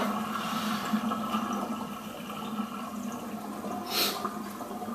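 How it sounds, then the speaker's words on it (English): Water draining from a sink after electric and wet shaving, a steady gurgling trickle with a soft hiss and one brief sucking burst near the end. "I'm going to drain the water. It's in the sink"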